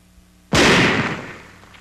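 A single sharp, loud burst of .50 caliber machine gun fire striking an oxygen tank, followed by a hissing, decaying rush of noise that fades over about a second.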